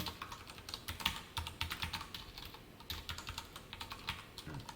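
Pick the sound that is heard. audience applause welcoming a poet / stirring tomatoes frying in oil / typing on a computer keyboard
typing on a computer keyboard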